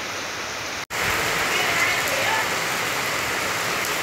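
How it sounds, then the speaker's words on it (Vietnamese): Heavy rain pours down steadily in a dense, loud hiss after a brief cut near the start, with no speech over it. "phía sau này, đó là cơn mưa đó."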